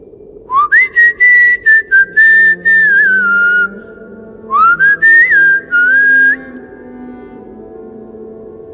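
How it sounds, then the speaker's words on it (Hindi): Someone whistles a short melodic tune in two phrases, clear and close, with a pause between them and quiet background afterward. "ढूंढते हुए ऐसे ही एक धुन सीटी की बजाई"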